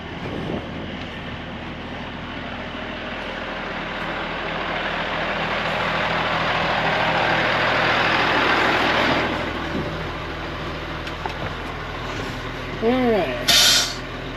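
A Volvo 6x6 truck's diesel engine idles steadily at close range, a low constant rumble with a brief hiss near the end and someone talking over it.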